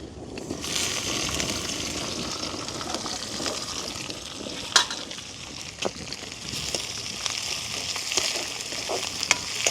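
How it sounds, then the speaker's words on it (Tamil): Mustard seeds, fennel, onion, green chilli and curry leaves fry in hot oil in a village kitchen in Vanni, giving a steady close sizzle with scattered sharp crackles and pops throughout. "எண்ணெய் வந்து கொதிச்சிட்டுது இப்போ வந்து முதல் கடுகும் பெருஞ்சிராமும் போட்டுக்கொள்வோம்"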